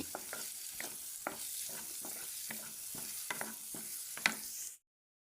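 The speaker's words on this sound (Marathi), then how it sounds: "हें मस्टर्ड सीड आनी जिरा बरें भाजो लागला" Mustard seeds and cumin frying in hot oil, a steady close sizzle broken by sharp popping crackles, stopping abruptly into silence near the end, with no voices.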